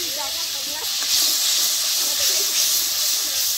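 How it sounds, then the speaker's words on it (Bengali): Turmeric and chili powder spices with a little water sautéing in a pan for a bottle gourd and pangas fish curry, a steady loud hiss and sizzle running throughout with faint scraping. "মশলা আমি ভালো করে একটু কষিয়ে নেব"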